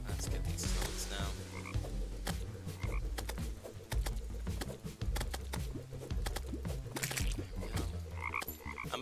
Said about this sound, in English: Let's get these toads now.